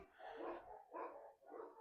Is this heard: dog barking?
yes